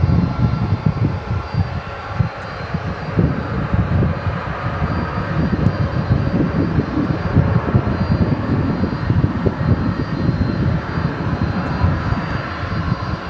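A jet airliner takes off at DFW Airport, its engines roaring loud and steady for the whole stretch, with no voices over them.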